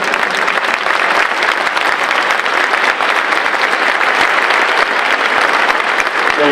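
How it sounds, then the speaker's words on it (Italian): Loud, dense applause from an audience welcoming a polyphonic choir at a concert, a continuous, close and even roar of clapping with no speech. "accogliamo con un forte applauso"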